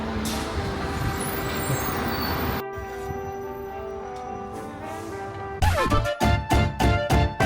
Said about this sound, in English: We've got the fun of being on the open top bus.